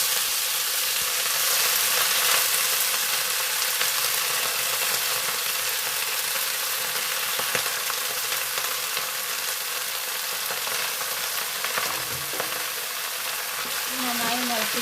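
Washed chayamansa spinach leaves drop into hot oil already popping with mustard seeds, setting off a steady close sizzle and hiss that runs throughout, with a faint voice briefly underneath.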